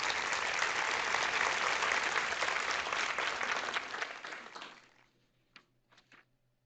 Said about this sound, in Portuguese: eu não me importaria se alguém aplaudisse isto